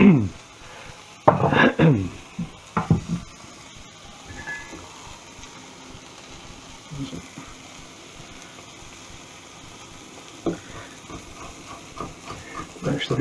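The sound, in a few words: minced pork burger sizzling in oil in pan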